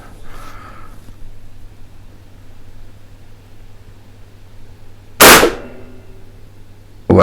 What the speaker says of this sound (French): Depuis tout à l'heure, j'entends qu'elle tire plusieurs coups par. Elle tire plusieurs plombs par coup.